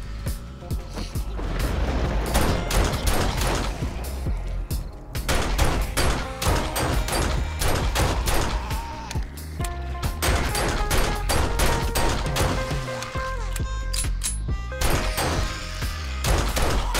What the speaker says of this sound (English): Oh, stop shooting wood with a shotgun